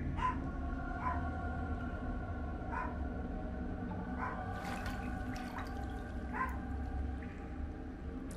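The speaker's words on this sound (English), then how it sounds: "Sorry about the barking." A dog barks repeatedly at a distance, about seven faint, evenly spaced barks over a low steady background hum.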